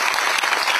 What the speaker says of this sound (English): he really deserves a round of loud applause